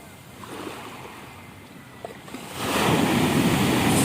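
Surf rushes and breaks on the Sea of Galilee, growing into a loud, steady roar of waves in the second half, with wind noise underneath.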